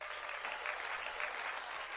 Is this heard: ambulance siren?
no